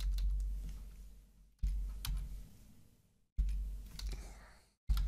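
Quiet, close keyboard typing comes in three short bursts of rapid clicks separated by brief silences, with no voices.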